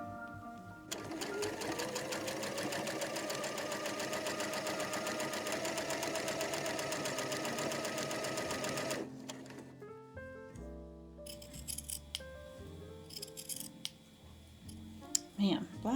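A sewing machine runs steadily for several seconds, stitching the bottom hem of a black fabric top, then stops, followed by quieter handling clicks and light rustling nearby.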